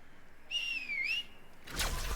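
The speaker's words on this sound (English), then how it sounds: "I just love whistling for a hoverboard" A single clear whistle, rising, dipping and then rising again, summons a hoverboard in the Lost Ark video game, followed by a brief rushing burst as the board appears.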